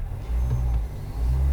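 The gas engine of a 2022 Ford Maverick XL revs, giving a steady low rumble that swells slightly and then holds, heard close and with no talking.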